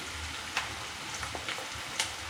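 Ginger garlic paste sizzling in hot oil while paneer biryani is cooked: a dense, continuous frying hiss, close and fairly loud, with a few small crackles and pops.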